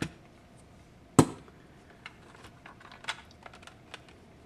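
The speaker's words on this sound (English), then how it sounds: "Opening the battery compartment," A Vivitar 285HV flash has its battery compartment opened and batteries removed: one sharp snap of the cover, then scattered light plastic clicks and rattles, close and quiet.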